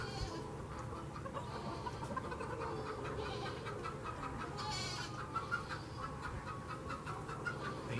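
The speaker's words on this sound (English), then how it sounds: "I hear one of the chickens cackling right now." White Rock and mixed-breed backyard hens cackling and clucking nearby, a continuous busy murmur of farmyard bird calls with occasional sharper squawks.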